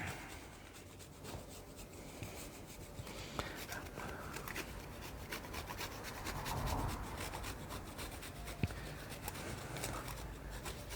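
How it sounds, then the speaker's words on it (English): Chocolate candy bar grated over a chocolate cake or brownie, giving a steady, close scratchy rasping that runs continuously for the whole stretch, with no talking. "Now after I've grated my chocolate candy bar on there"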